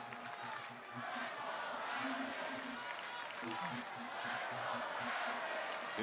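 A large WWE SmackDown arena crowd roars steadily, with rhythmic chants of "Let's go, Howdy" rising through the din and a commentator talking over the top.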